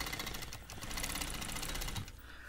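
A longarm quilting machine stitches around an appliqué flower on a vintage floral quilt, a rapid continuous mechanical chatter that runs steadily for about two seconds, then drops to a quieter hum.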